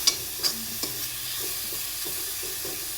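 Dill leaves stirred and fried in a pan: a steady close sizzle with a few sharp spatula scrapes near the start and soft stirring knocks throughout.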